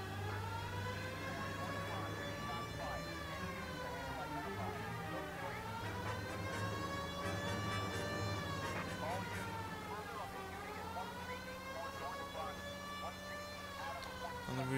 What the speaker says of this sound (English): Definite reason to have the siren on now.